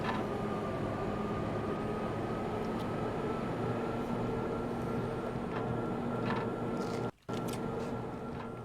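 A train runs in the Max Payne video game with a continuous low mechanical rumble and steady hum, broken by a brief cutout near the end, with no voices.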